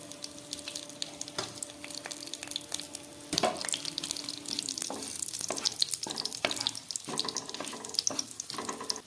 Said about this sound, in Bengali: এবার দিয়ে দিচ্ছি গরম মশলা ফোড়ন, আর দিয়ে দিচ্ছি 2টো শুকনো লঙ্কা, আর দিচ্ছি 2টো তেজপাতা।